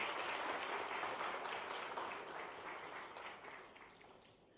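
Audience applause at a state MoU signing ceremony in Gandhinagar, a brief burst of clapping that fades gradually toward the end, faint and somewhat distant.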